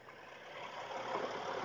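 Kenworth gravel truck passing on a dirt road, heard from a Honda Goldwing, a steady broadband engine and road rumble that swells slightly as it goes by, no voices.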